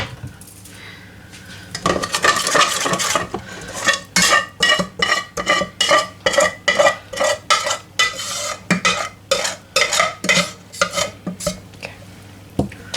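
A spoon or utensil scrapes and knocks around a bowl while food is mixed, in a steady run of distinct, close, fairly loud strokes, preceded by a brief burst of handling noise.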